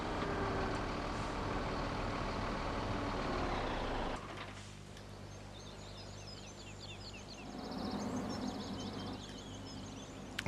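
In Farming Simulator 17, a truck rumbles in with a steady engine drone that drops away midway. A quieter hiss and faint chirps follow, and a low rumble rises again near the end.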